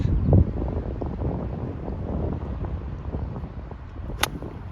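Steady wind rushing across an open golf course, a constant broadband roar into the microphone with a brief sharp tick near the end.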